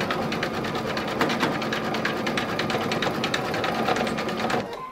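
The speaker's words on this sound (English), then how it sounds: "it'll beautify it with its quilting stipple stitches and a tack down" Embroidery machine sewing quilting stipple stitches and a tack-down on a seashell appliqué, a steady rapid needle chatter with a motor hum, loud and continuous before easing off at the end.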